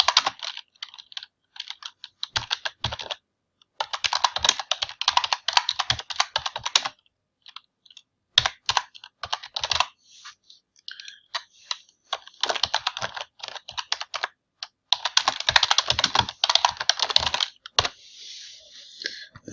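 Close, brisk typing on a computer keyboard while an email title is entered, bursts of rapid key clicks separated by short pauses, with no talking.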